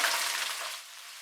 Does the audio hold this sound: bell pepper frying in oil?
yes